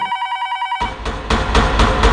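A telephone rings with a steady electronic trill for a little under a second, then cuts off and gives way to louder, busier noise with rhythmic bursts.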